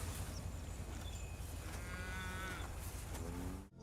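Cattle low in a few drawn-out moos, moderately distant, over a steady low rumbling background with no voices.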